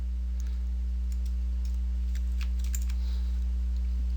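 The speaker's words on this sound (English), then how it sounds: "just hit Z on your keyboard." Computer keyboard keys are pressed during a Photoshop tutorial, with light, scattered clicks sitting faintly over a steady electrical hum.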